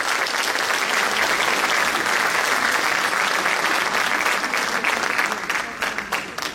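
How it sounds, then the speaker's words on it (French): An audience at a personal development conference applauds to welcome a speaker, a dense, steady clapping that fades near the end. "Sur vos chaleureux applaudissements"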